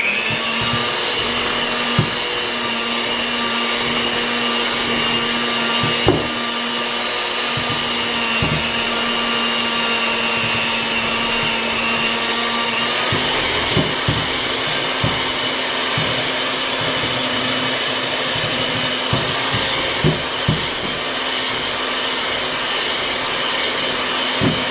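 Electric stand mixer running continuously while mixing cookie icing, a steady whining motor hum with occasional faint knocks from the bowl, alone and unbroken for the whole stretch.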